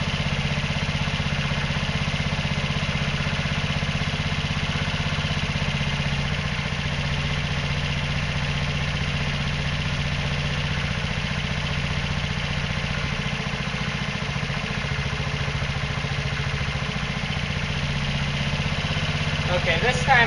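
A hydrogen-powered scooter engine runs steadily during a rev test with its air intake slightly restricted, a continuous loud mid-to-low drone with little change across the stretch.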